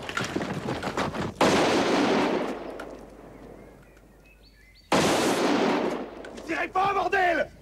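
Gunfire erupts during a police arrest scene in a 1989 French film, two loud sustained bursts of broadband shots separated by a quieter gap, with shouting voices between them.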